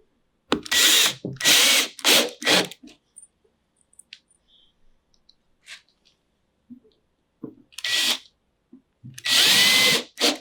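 A power drill drives screws into a Vivarium Electronics Super70-5 Series II reptile rack, with several loud whirring bursts of a second or so separated by quiet pauses and a few faint clicks, up close with no speech.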